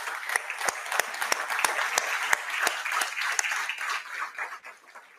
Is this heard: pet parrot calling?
no